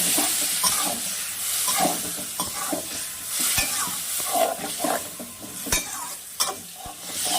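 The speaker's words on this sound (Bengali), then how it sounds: "এইবার ভালো করে কষিয়ে নেব মশলাটা" Masala with a splash of water is stir-fried in a pan for a fish dish with potato and eggplant, close sizzling broken by repeated scraping strokes and sharp clicks of a spatula against the pan.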